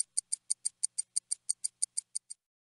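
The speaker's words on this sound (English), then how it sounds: "A watch sounds like this." A ticking watch gives about fifteen crisp, evenly spaced ticks heard up close and alone, then stops abruptly partway through.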